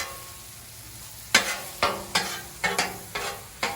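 Sausage cooks on a 36-inch Blackstone griddle. After a quiet start, a metal spatula strikes and scrapes the flat-top in about six sharp clacks over a low background sizzle, close by with no speech.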